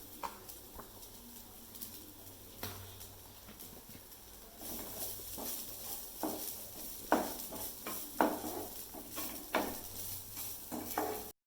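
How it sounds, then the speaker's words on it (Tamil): Grated coconut roasts in a pan while a spatula scrapes and taps against the metal in irregular knocks and stirs, quiet and close, growing busier toward the end. "தேங்காயை போட்டு நல்லா கொஞ்சம் பொன்னிறமாக வரணும். அது வரைக்கும் வறுக்கணும்."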